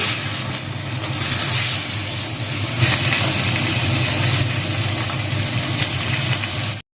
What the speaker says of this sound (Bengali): তেল গরম হয়ে গেছে, আমি মাছও দিয়ে দিয়েছি